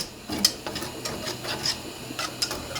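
A whisk scraping and clicking in a pan of sauce for shrimp pasta, a brisk irregular run of light metallic taps and scrapes, close and fairly quiet, with no talk.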